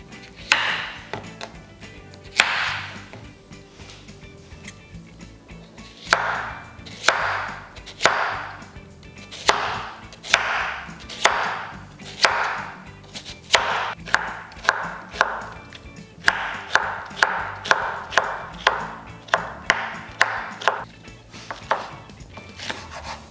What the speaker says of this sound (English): And now you need to chop 1/2 zucchini into thin strips.